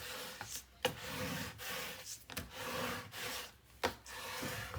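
Rubbing and burnishing strokes across paper covering a 6 x 8.5 folio album, close and fairly quiet, with repeated scraping passes and a few sharper taps between them.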